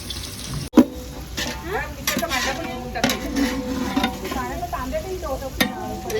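Finely chopped onion drops into hot oil with large cardamom and cumin while biryani is made, giving a close crackling sizzle with stirring scrapes and a sharp clatter near the start, and a voice talking over it.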